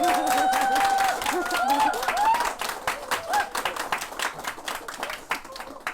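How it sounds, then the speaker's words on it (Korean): Audience applause opening a book talk, a burst of many hands clapping with a few cheers and whoops on top, then thinning into scattered individual claps that trail away. "북토크를 박수로 한번 열어보도록 하겠습니다"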